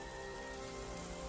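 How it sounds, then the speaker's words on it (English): Steady rain falls in a cartoon scene of a farm and a rainstorm, a continuous, even hiss of drops on a surface, soft and distant, with no voices. "came the rain"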